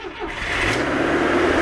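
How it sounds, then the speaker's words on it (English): A Romanian Oltcit car on a trailer fires up, its engine quickly swelling into a steady, close, loud running drone that holds to the end. "So that's what an Oltcit sounds like."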